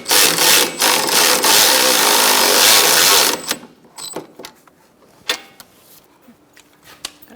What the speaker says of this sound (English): using my battery ratchet